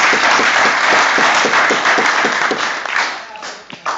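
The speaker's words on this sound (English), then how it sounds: "So one more round of applause," Loud, dense audience applause fills a community gathering hall, steady clapping from many hands that thins slightly toward the end.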